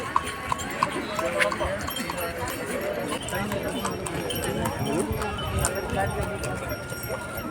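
Horse hooves clip-clop during rides on the crowded beach at Kanyakumari, a steady clatter heard amid constant crowd chatter and general seaside bustle.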